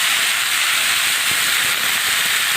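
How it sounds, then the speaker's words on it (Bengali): Raw banana vegetable pieces frying in a pan, giving a loud, dense, continuous hiss of sizzling oil that holds steady throughout, close up with no voices. "সবজিটা দিয়ে আমি একটু ভালো করে সবজিটাকে ভেজে নেব।"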